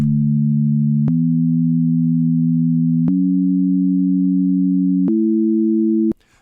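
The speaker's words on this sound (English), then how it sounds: "today we're focusing on the sine wave" A pure, steady sine tone holds, stepping up in pitch every couple of seconds with faint clicks at each change, then cuts off.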